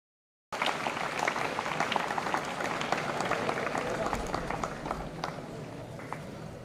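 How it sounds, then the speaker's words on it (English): A crowd applauds steadily at a college day celebration, dense clapping that starts abruptly and carries on evenly throughout, filling a large hall. "Give a big round of applause."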